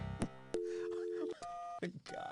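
Telephone ringing tone in the You Don't Know Jack video game, a series of steady electronic tones with brief gaps and pitch changes, heard close with a bit of voice-like sound at the start.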